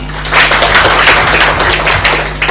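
Conference audience applauding the host at a Pan African climate financing event, a steady wash of many hands clapping throughout at moderate loudness with a low hum beneath.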